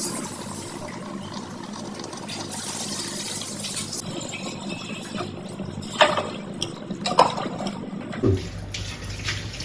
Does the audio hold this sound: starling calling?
no